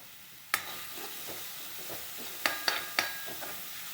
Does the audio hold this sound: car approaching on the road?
no